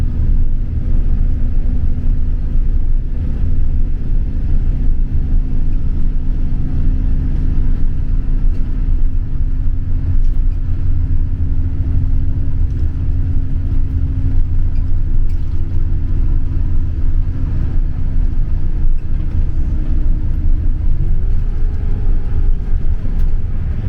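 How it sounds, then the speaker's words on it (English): A tour coach engine straining as it climbs uphill on Alaska's Dalton Highway, a loud steady low rumble and drone that holds for a long stretch, with a slight shift in pitch near the end. "acceleration going uphill is not the forte of these coaches"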